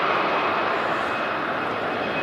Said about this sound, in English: There we go, EasyJet A320 heading off to Lisbon.